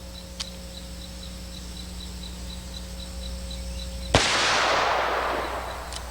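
A Dan Wesson revolver fires a single heavy 200 grain .460 load outdoors, one sharp, loud report followed by a long, fading rumble over steady background hum.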